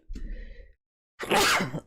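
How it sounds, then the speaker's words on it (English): A single close sneeze: a short breathy intake followed by a loud, sharp burst of air. "I'm going to sneeze very soon, I think."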